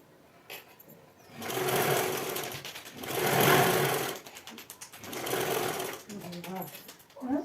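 A sewing machine stitches a blouse in loud, steady bursts with short pauses between runs, and someone talks quietly near the end.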